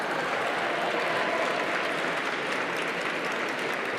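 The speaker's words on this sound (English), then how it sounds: "let's have a round of applause for that." A gala audience claps steadily for a few seconds, dense and even applause from a large crowd with no break.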